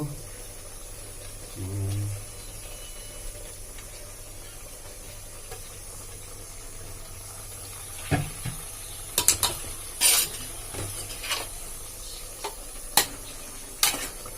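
Pork pasta with spring onion being stirred and mixed in a pan, a low steady sizzle under scattered scraping and clinking strokes of a utensil, with one brief murmur early on.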